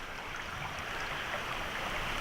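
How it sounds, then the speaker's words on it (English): A small creek flows steadily outdoors, giving a constant close rushing babble of water with no breaks and no voices. "So where is that creek? It's more of a stream."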